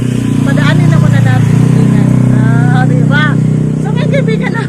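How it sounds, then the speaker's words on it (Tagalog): A loud motorcycle passing on a street by a sari-sari store, its engine droning steadily close by, while a person talks over it. "May dadaan lang ng motor, maingay kasi."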